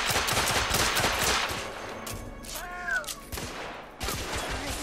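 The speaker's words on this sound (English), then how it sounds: "Oh, getting shot up." Gunfire in the video game The Order crackles in dense, rapid bursts of loud shots, dropping off briefly in the middle before another volley resumes near the end.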